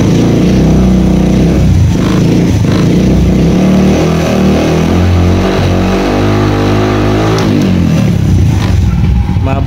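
Suzuki Smash 115 motorcycle engine revving loud and steady close by, its pitch rising and falling through repeated throttle blips, with a headlight flicker and backfire issue on the bike.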